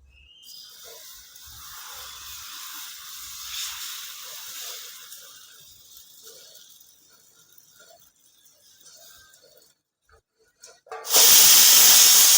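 Varai (barnyard millet) and potato dosa cooks on a hot pan, giving a steady soft sizzle and hiss that thins out and then ends in a sudden loud burst of hissing steam.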